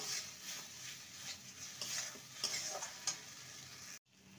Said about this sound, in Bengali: এবার এটাকে ভালো মতন কষিয়ে নেব, একদম শুকনোভাবে কষিয়ে নিতে হবে।